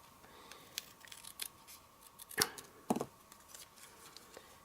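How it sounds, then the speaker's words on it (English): Scissors snip through paper to trim off a border strip during a card-crafting session, giving a series of short, close cuts with a couple of louder snips in the middle, quiet handling around them and no speech. "I want to make a border, so if I cut that off,"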